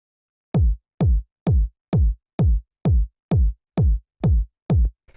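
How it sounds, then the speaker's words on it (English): A 909 kick drum for minimal dub house hits ten times in a steady four-on-the-floor pulse, each thump punchy and booming with a quick decay, dry and alone. "It's just a 909 kick."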